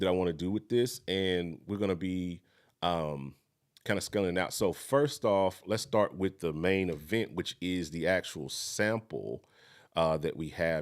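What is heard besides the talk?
No everyday noise stands out behind the speech.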